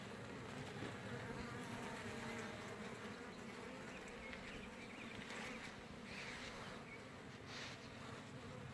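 Honey bees hum loudly and continuously at an opened hive while frames are being split into a new four-compartment colony support hive, a thick unbroken drone with no voices.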